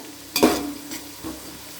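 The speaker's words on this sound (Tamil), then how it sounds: "நல்லா பிரியாணிக்கு வந்து நல்லா உள்ளி வதங்கணும்" Onions sautéed in a pan for vegetable biryani: one close scraping stir over a light sizzle, followed by two fainter strokes.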